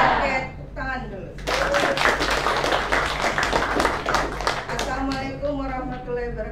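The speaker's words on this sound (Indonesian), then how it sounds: "Oke, tepuk tangan dulu." A group claps its hands at a school gathering, a burst of fast, crisp applause lasting several seconds between stretches of a speaking voice before and after.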